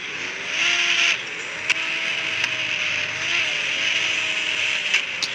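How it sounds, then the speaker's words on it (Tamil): Tires screech in a racing video game, a steady high-pitched squeal mixed with engine whine that dips and rises in pitch, with a few faint clicks over an even background. "சவுண்டை கேளுங்க, டைரஸ் பண்ண சவுண்டு."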